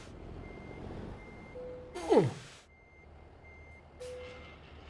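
A truck reversing in American Truck Simulator sounds steady, evenly spaced backup beeps over low engine rumble, broken by two sharp air-brake hisses, with one brief exclamation from a voice.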